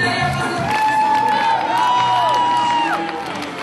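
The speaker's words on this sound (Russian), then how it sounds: "и зал взорвался аплодисментами" A theatre audience of adults and children at a drama premiere of the play Koshkin Dom breaks into loud, sustained cheering, whoops and whistles with applause mixed in, filling the hall throughout.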